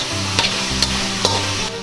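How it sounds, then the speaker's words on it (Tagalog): Beef frying in a pan for a beef-with-mushroom dish while being stirred: a loud, constant sizzle broken by three distinct scraping strokes of the utensil at a steady pace, with no speech. "Tapos hahaluin lang natin itong ating baka"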